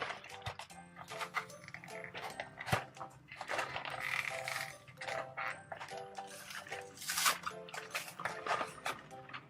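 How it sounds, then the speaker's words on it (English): Gumballs pour into a toy gumball machine, a close, busy clatter of many small hard balls rattling and clicking against plastic, continuing unevenly for several seconds with no talk. "let's open up our gumball refill box and fill up our machine."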